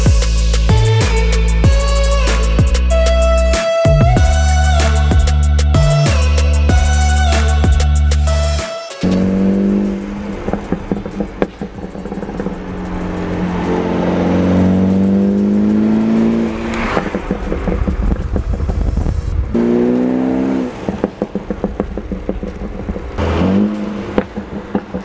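A car engine revs hard with a rising tone, then settles into a low, uneven exhaust rumble with popping burbles as it idles and blips.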